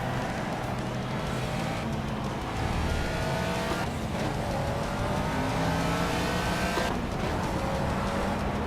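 A race car in the Project CARS racing game, an Escort Classic at Hockenheim Short, roars past with sustained loud engine noise and shifting revs, and tires hiss throughout.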